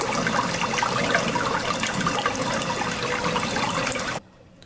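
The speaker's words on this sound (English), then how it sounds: "So we have the sound of water running." Steady, loud rush of running water in a large DIY aquarium sump system serving about 1300 gallons, continuous and close, cutting off abruptly near the end.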